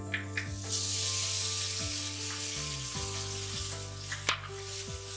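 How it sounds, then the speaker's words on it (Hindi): Ginger garlic paste sizzles steadily in hot oil with onions for an achari chana pulao, a continuous loud frying hiss with faint stirring clicks throughout. "अब हम अदरक लहसुन का पेस्ट शामिल कर रहे हैं"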